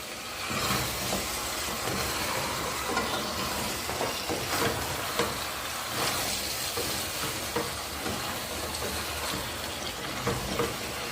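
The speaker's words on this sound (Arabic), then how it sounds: "ندي طنجره تاعي تتقلى ومن بعد نكمل. نقلي الفول ديالي،" Fava beans frying in a pot, a steady, dense sizzle with continuous hiss and scattered spitting crackles, close and fairly loud throughout, alone without speech.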